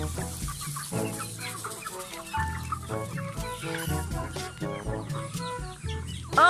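Native chickens crowd in to be fed and cluck close by, a dense overlapping run of short throaty clucks with no talk.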